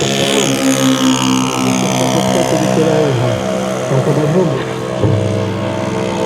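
A Stearman biplane's propeller engine drones loudly throughout, with a rich harmonic hum that wavers slightly in pitch, like a nearby piston aircraft in flight.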